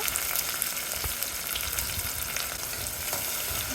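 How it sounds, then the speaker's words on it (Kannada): Tomato and curry leaves frying in a pan, a steady close sizzle with faint stirring scrapes throughout, no talk. "ಟೊಮ್ಯಾಟೊ, ಕರಿಬೇವು ಎಲ್ಲ ಹಾಕ್ಕೊಂಡು ಸ್ವಲ್ಪ ಚೆನ್ನಾಗಿ ಫ್ರೈ ಮಾಡ್ಕೊಳ್ಳೋಣ"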